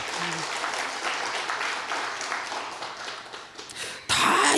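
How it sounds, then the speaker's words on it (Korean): A church congregation bursts into applause after a minister's announcement, loud dense clapping filling the room, preceded by a faint murmur of the crowd. "네, 박수 치십시오."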